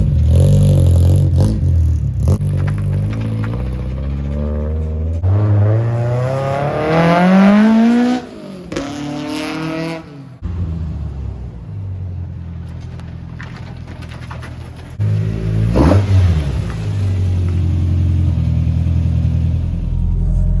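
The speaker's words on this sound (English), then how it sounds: "Sounds like I have an exhaust leak up here, though." Car engine idling and revving in a driveway with an exhaust leak at the flange, rough rumbling low end with a couple of rising revs and a ticking clatter, loud and close.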